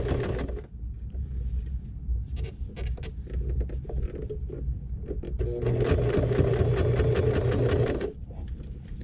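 A sewing machine stitches a small fabric crossbody shoulder bag with a steady, close, loud mechanical whir. The whir rises into a faster, denser run of needle strokes, then halts near the end.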